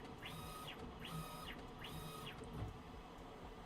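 A printer prints a white layer with three evenly spaced, rising and falling carriage sweeps, a mechanical whir in a quiet room, followed by softer clicks.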